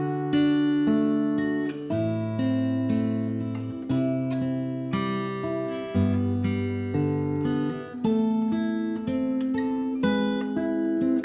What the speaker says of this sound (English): I'm going to show you how to play this picking pattern